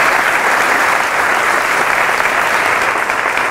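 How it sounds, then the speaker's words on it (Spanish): A church congregation bursts into loud, sustained applause during a sermon, a thick unbroken wash of many hands clapping at close range. "Fuertes aplausos a Jesús de Nazaret."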